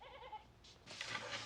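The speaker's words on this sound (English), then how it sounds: "A goat." A goat in a television drama gives a faint, brief bleat at the start, followed by soft rustling and background noise, heard without talk.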